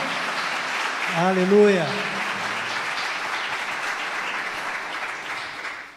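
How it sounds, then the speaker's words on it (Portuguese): Church congregation clapping steadily throughout, a dense, sustained wash of applause with a voice briefly calling out over it partway through. "Você pode aplaudir mais forte o Senhor?"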